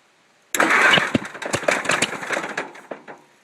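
A 1947 Allis-Chalmers C tractor engine cold-starts abruptly after a quiet moment, catching into a loud, uneven chugging that settles toward a rough idle, close by and alone.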